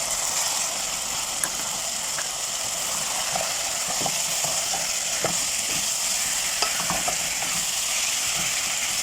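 Onion fries in a pan while being stirred, producing a continuous close sizzle with scattered scrapes and light clicks of a spoon against the pan, no voices.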